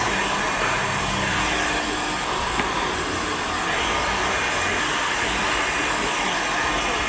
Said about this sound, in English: I'm just going to apply some heat and really start sealing these edges